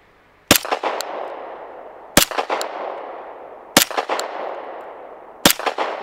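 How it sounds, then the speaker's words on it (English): Four sharp, loud pistol shots from a Sig P320 / M17 fired one-handed outdoors, evenly spaced about one and a half seconds apart, each followed by a short ringing echo and tail. "I mean, even shooting in one hand, let's see."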